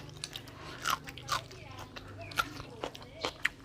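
Crisp, crunchy bites and chewing of rural Isan-style food, several sharp crunches spaced irregularly and heard up close, with a voice talking faintly in the background.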